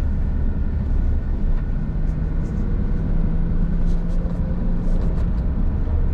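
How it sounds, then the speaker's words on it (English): A 2006 Maserati Quattroporte Sport GT cruising along country roads, with a steady low engine and road drone throughout, heard from inside the car, plus a few faint ticks and rattles. "We're going for a drive on the country roads. I'm going to go ahead and put it in drive"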